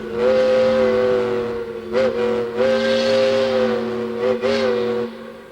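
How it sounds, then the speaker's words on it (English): A steam locomotive's whistle sounds in long, steady tones, broken by a few short gaps, loud and close with a rumbling mechanical bed underneath. "Listen to the sound of this engine."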